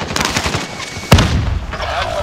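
Gunfire in the video game Call of Duty: Warzone, a sharp loud shot cracking out amid a steady rumble of battle noise, with game voice chatter underneath.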